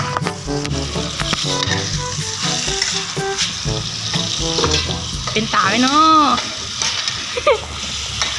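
Wild boar pork stir-frying with garlic in a hot pan gives a steady close sizzle with stirring scrapes, while someone talks over it and musical tones run through the background.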